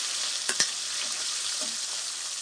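Fish frying in hot oil for a home-cooked Sunday meal, a steady close sizzle with a couple of brief clattering stirs or spatters near the start, no voices.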